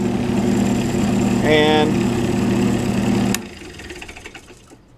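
A barrel trimmer runs steadily, trimming a pen blank while turning pens, its motor drone loud and continuous before cutting off abruptly near the end, leaving quieter handling noise; a brief spoken word is heard.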